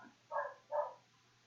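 A pet dog gives two short barks indoors, close and fairly loud, evenly spaced against a quiet room.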